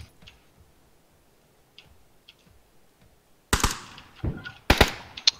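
Gunfire in the battle royale game PUBG: a few faint distant ticks at first, then several loud, close bursts of shots in quick succession.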